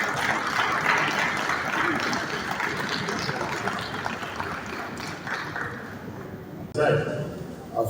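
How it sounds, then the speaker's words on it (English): Audience applause at a real estate conference session, a broad steady wash of clapping under a speaking voice, fading slightly before a brief louder burst near the end. "Please a round of applause."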